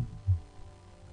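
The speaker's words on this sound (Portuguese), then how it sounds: "sentindo o batimento cardíaco" A heartbeat during a guided meditation: a low, muffled thump stands out near the start, followed by a quieter throbbing pulse with no talk.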